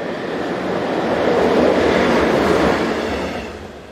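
Class 120 electric locomotive 120-202 pulls a passenger train into the station at Buchen. A broad rushing roar swells as it nears, holds steady, then eases off at the end, with no voices.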